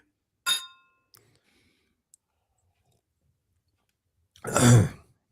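Beer glasses clink once sharply in a toast near the start, then after a near-silent pause a louder burst follows, like a sip, sigh or throat clearing.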